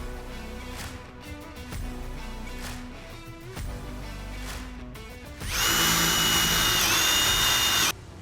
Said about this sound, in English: I know, I really need to replace these old, dull drill bits.